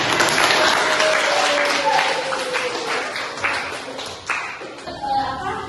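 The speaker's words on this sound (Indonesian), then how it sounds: "berikan tepuk tangan" A classroom of students claps for a classmate, a busy patter of hands that gradually thins and fades, with children's voices and talk audible over and under the clapping.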